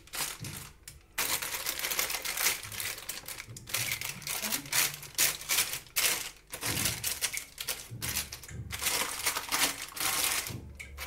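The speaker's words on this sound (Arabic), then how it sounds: "ناخدو هاد الورق ديال الطبخ غنغطيه هو الاول" Baking paper crinkles and rustles loudly and continuously while it is laid over chicken before the tray goes into the oven, with dense crackling bursts and brief pauses throughout.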